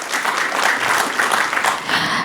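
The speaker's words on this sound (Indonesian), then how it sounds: "Berikan tepuk tangan dong untuk beliau." Audience at the Anugerah Penggerak Nusantara 2025 awards ceremony breaks into dense, continuous applause, loud and sustained throughout with no talk over it.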